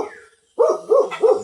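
A bulldog barks three times in a quick, evenly spaced series, close and loud, after a brief silence.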